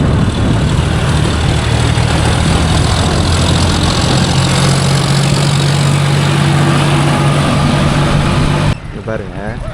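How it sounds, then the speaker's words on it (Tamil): A John Deere 5050D tractor engine runs steadily while pulling a rotavator through a field, a loud, constant low drone throughout that drops off abruptly near the end. "வண்டி வர்றதுலே சத்தம் மட்டும் டம்மு டம்மு டம்முன்னு டோர் சத்தம் மட்டும் அதிகமாக கேட்கும்."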